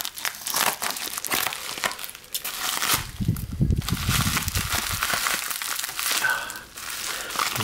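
A securely taped mail package holding trading cards is cut open, giving close crinkling, crunching and tearing of packaging in an irregular run that continues throughout.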